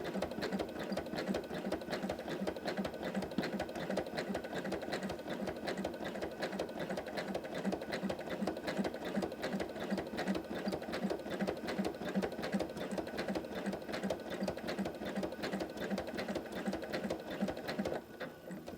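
Janome M17 sewing machine couching yarn, running continuously at a fast steady rhythm of rapid needle clatter, close and even for the whole stretch before slowing at the end.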